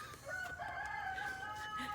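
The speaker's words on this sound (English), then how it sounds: "That rooster's gonna end up out in the country with the other two, because he's making too much noise." A rooster crows in a short, fairly faint call over quiet garden background noise, heard alone with no talk.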